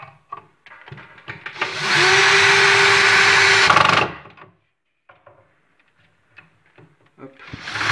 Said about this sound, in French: je vais venir visser ma planche sur le tasseau en perçant un trou et en fraisant